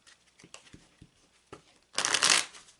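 Gypsy Witch cards being shuffled: a few soft taps and riffs, then a loud, dense riffle shuffle lasting about half a second, close to the listener.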